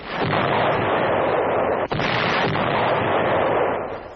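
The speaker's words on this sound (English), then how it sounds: "From Strasbourg, Nazi positions across the Rhine are shelled." Artillery shells Nazi positions across the Rhine from Strasbourg in wartime, a continuous, heavy roar of firing with one sharp break midway, loud and muffled like old film sound, with no voices.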